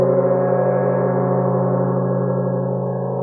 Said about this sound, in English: you might get a gong beater that kind of looks like a bass drum beater